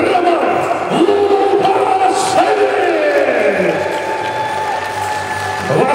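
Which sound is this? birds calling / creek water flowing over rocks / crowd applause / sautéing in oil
crowd applause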